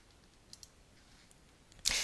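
A computer mouse clicks the preview button on a website page: two faint, quick clicks close together, then a louder, sharper burst near the end.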